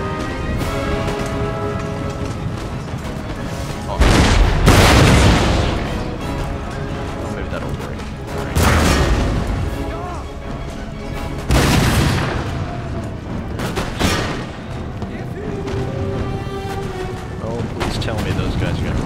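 Cannon artillery fire in the Empire: Total War strategy game: repeated heavy booms roll out at irregular intervals over a dense battle din, with someone talking throughout.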